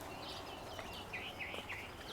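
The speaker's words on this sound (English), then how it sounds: "You hear the birds?" Faint bird chirps and short tweets sound over a quiet outdoor background, a few scattered calls in the distance.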